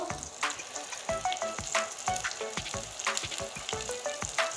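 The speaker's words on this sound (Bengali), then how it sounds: "এবার মশলাটা সুন্দর করে কষিয়ে নিব" Spices with salt and turmeric being sautéed down in a pan for a boal fish curry, a continuous close sizzle and frying crackle with intermittent scraping stirs and no voices.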